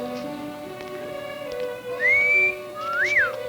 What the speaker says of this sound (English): I've been whistling the wrong way for years.